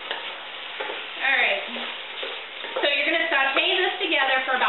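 Tofu scramble with tomatoes sizzles in a pan while it is stirred, a soft frying hiss that runs under a person talking throughout.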